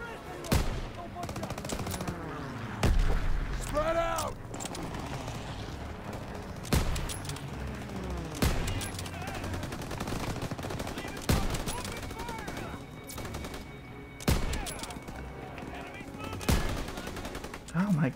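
Gunfire in the World War II shooter Call of Duty: WWII crackles in rapid bursts and single heavy shots, with machine-gun rattles and booms over a noisy battlefield and faint shouting in places.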